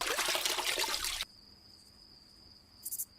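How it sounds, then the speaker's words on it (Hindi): Water in a pond at night rushes and splashes loudly for about a second, then cuts off to quiet night air with a thin steady insect-like whine and a short burst of faint splashing near the end. "तभी अचानक मेरे कानों में पानी की आवाज आई।"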